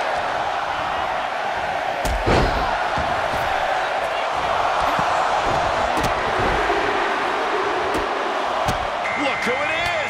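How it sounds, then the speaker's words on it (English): Arena crowd noise from a women's Royal Rumble match in WWE 2K24, a steady loud roar of cheering and shouting with occasional slams and hits breaking through, constant throughout. "Just listen to the crowd."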